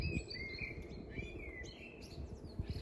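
Small birds chirp and tweet in the background outdoors during a car shoot, faint repeated calls over a low steady rumble.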